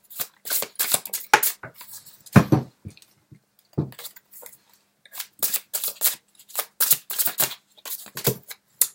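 Tarot cards are shuffled by hand in repeated bursts of crisp riffling and slapping, close and moderately loud, with brief pauses between rounds and no speech.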